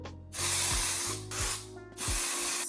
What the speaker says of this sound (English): Pigment of choice today is this Red by Kiss lace tint spray.